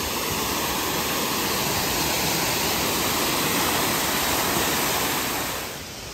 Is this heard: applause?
no